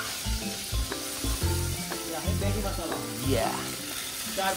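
Chopped onion frying in a pan for Maggi noodles, a steady sizzle running under rhythmic background music for the whole stretch.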